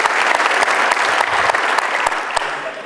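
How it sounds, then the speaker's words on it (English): A business-event audience at a forum on the opioid crisis in Virginia gives a loud, close round of applause, a thick steady patter of many clapping hands with a few sharper individual claps standing out, lasting nearly three seconds. "So we can give him a round of applause and thank him for his business leadership."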